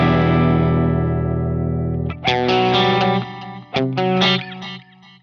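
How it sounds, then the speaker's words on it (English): Yamaha GEP50 rack guitar effects processor set to a long stereo delay with modulation: a sustained distorted guitar chord rings out, then plucked notes and chords repeat in trailing echoes, loud and close with no voices. "a long delay. And stereo. With some modulation or not, it sounds like"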